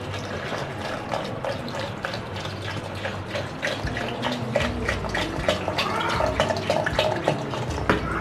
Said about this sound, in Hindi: अब इसमें वाटर ऐड करूंगी।